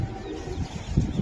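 A long-distance racing pigeon gives a short burst of low, throaty cooing up close, two soft pulses toward the end over a quiet room background.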